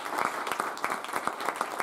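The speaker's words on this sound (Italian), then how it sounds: "Quindi un bel applauso e grazie anche a te." An audience claps together at a community association event in Cento, a steady, fairly dense round of applause heard at moderate distance, continuing without a break and with no clear speech over it.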